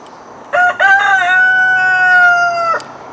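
A rooster crows once, close and loud, a long harmonic cock-a-doodle-doo lasting over two seconds against a quiet background.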